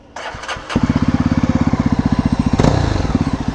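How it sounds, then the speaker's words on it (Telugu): A Yamaha R15 V4 M motorcycle with an aftermarket-sounding loud exhaust starts up and settles into a close, throbbing idle with rapid, even pulses, briefly revved once near the end. "సౌండ్ అదే ఏంది ఇంత డిఫరెంట్గా వచ్చింది, ఎగ్జాస్ట్ వచ్చినట్టు వస్తుంది అనుకున్నా."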